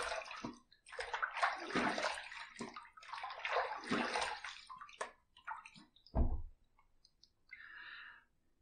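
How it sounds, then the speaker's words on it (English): Water splashes and runs in short bursts as a face is rinsed after a wet shave, irregular sloshing and trickling close by, ending with a softer brief stream. "Let's rinse."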